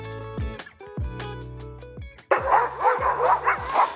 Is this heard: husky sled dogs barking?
yes